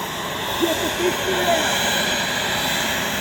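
A homemade turbo jet engine built from a burn barrel, mounted on a jet boat, runs with a steady broadband roar and hiss that stays loud and even throughout, while people talk briefly over it.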